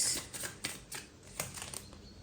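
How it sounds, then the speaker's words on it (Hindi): Tarot cards being drawn from a deck, with a soft series of light papery flicks and slides that are quiet and close, spaced irregularly across a couple of seconds with no voice over them. "I will take 2 more cards."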